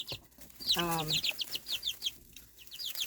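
A cluster of chicks peeps and clucks steadily at close range, joined briefly by a lower, drawn-out harmonic call near the start, then the high cheeping carries on alone.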